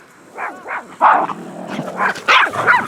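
Excited dogs in a household with puppies bark and yip close by in quick, uneven bursts, some with whiny edges, one after another with no voices.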